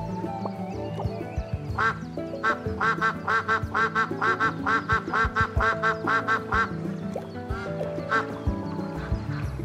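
Ducks quacking in the video game SCHiM, a long run of rapid, evenly spaced quacks in a steady rhythm over layered game music and ambience, loud and close.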